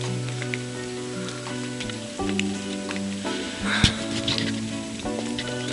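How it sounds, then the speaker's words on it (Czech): Steady rain patters outdoors at a carp fishing spot, a soft continuous hiss of drops with a few sharper splashes and low tonal hum underneath, no talk. "Ale místo toho prší"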